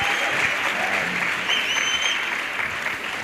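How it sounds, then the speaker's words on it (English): An audience at a youth empowerment week event applauds its panelists, producing steady, loud, sustained clapping that fills the whole stretch and tapers only slightly at the end. "let's give our panelists a round of applause"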